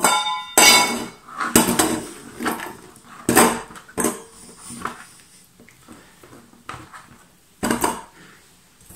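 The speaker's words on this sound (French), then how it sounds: "Mes gousses d'ail, je les écrase." Garlic cloves crushed on a kitchen board, several sharp, loud knocks and thuds at irregular intervals, close up, with quieter handling clatter between them.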